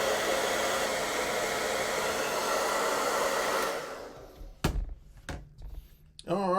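Heat gun blowing hot air onto a pistol grip sleeve for a Springfield Prodigy handle, a loud steady roaring whoosh for about four seconds that then cuts off, followed by a few close thunks and handling knocks.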